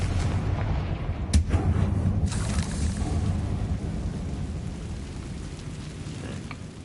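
Confringo blasting curse going off in the Hogwarts Legacy video game, a booming explosion with a sharp crack followed by a rumbling decay that trails off into low ambient noise.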